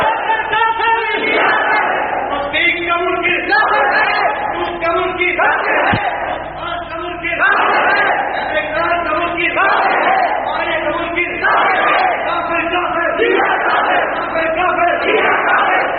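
A large crowd chants a slogan in rhythmic unison, loud repeated call-and-response bursts rising and falling across the whole stretch, with a brief dip midway.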